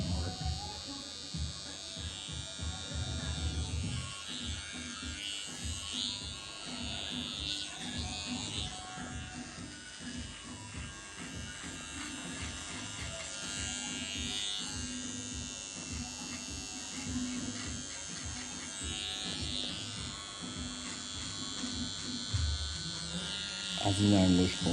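An electric hair trimmer buzzes continuously while cutting a taper fade on a classic haircut, close and steady with small shifts as it moves across the hair, under a man's quiet speech.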